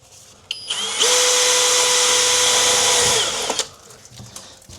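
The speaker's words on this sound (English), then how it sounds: "I'm gonna have to re-drill one just above here." A power drill bores a hole into a wall for a shower repair after leak damage, running loud and steady for about two seconds close by, with a brief whine of startup before and quiet afterward.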